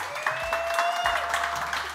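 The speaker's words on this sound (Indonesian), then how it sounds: "Tepuk tangan untuk ketiganya." Audience applause on a television comedy show, a steady dense clatter of many hands with music tones and faint voices mixed in underneath.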